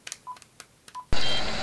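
A telephone number is dialed in a movie scene: several short touch-tone beeps in an uneven rhythm, then an abrupt, loud burst of hissing noise takes over.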